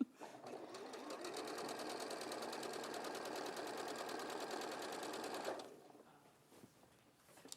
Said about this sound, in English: Just while Tash is stitching that